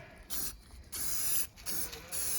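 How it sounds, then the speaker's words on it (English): Spray paint hissing from an aerosol can onto a Ford 3-speed transmission, in four bursts of steady hiss separated by short pauses, close and clear with no talk. "Stand back so I don't spray you. You don't want to inhale this paint."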